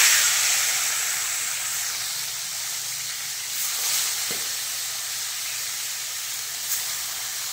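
Bata fish frying in hot oil in a pan, a broad steady hiss and sizzle that is loudest at the start and then settles, with a few faint pops and no talk.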